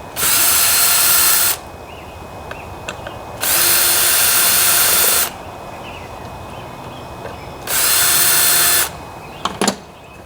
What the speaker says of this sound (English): So these are just Phillips head screws that hold this cover on.